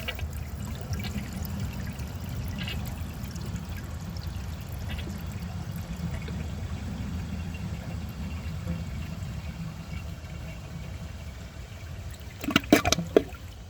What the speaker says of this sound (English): see how it flushes with a clogged siphon jet